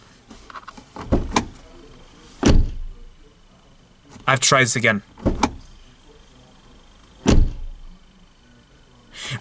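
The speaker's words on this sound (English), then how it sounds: "every time I close the door, there's always vibrations coming from this direction" A 2023 Ford Ranger Raptor pickup truck door thuds shut a few times, each slam followed by a brief interior rattle; someone speaks between the closings.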